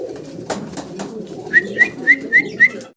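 Pigeons in a breeder's loft give five short, evenly spaced calls in the second half, fairly close, over a low background rumble, with no talk.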